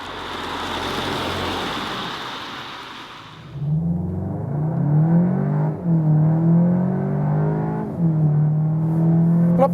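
A VW Arteon Shooting Brake R-Line accelerates hard to 100 km/h, its engine note climbing steadily and dipping briefly at two gear changes, loud and close inside the car with no talking.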